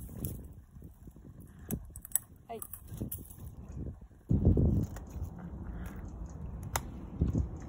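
A dog gnaws and crunches on a toy indoors, with soft irregular clicks and bites, a heavier burst of chewing midway, and a person's voice intermittently over it.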